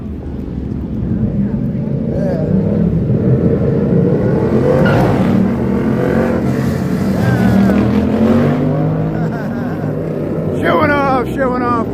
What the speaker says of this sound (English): Sounds like some motorcycles are coming.